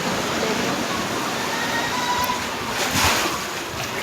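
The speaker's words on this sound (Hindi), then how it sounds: "ये देखो गाड़ी वाले और इतनी तेज निकलते हैं कि पूरा घर में पानी भर देते हैं।" Floodwater rushes and sloshes loudly as vehicles drive fast along a flooded road, throwing water toward a house in a continuous wash of noise with a brief surge near the end.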